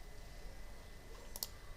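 A computer mouse clicking during CAD drafting work, one or two faint, quick clicks near the end of a quiet stretch with low room hum.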